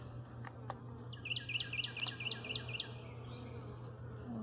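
Honeybees buzz in an open hive, a continuous low hum with a near insect's pulsing buzz for a couple of seconds and a bird chirping lightly in the background.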